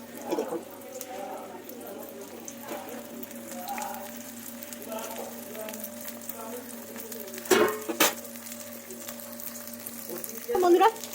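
Soybean chunks fry in hot oil with a continuous soft sizzle and a few sharper crackles and clinks, close by, while a voice talks intermittently and a low steady hum runs underneath.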